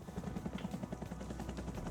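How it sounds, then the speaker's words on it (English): Steady rhythmic thumping of helicopter rotor blades in a video game, a fast even beat of moderate loudness over a low engine drone, with no speech. "Oh, we're doing a helicopter."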